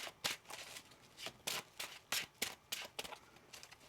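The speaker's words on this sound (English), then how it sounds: "One more shuffle here." Tarot cards being shuffled in a series of quick riffling bursts, about eight crisp papery rushes at an uneven rhythm, close and fairly quiet with no voice.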